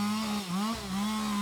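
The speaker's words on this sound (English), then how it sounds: "Let me grab the chainsaw." A steady, loud chainsaw engine drone from the video game Kindergarten 2, holding one sustained tone that dips briefly in pitch midway and then climbs back, with no talk over it.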